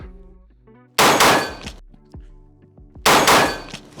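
Two loud, close pistol shots about two seconds apart ring out on a firing range during a shooting drill, each a sharp crack with a ringing decay. Faint metallic clinks sound between them.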